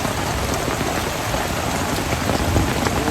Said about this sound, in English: It looks like we might have survived the storm.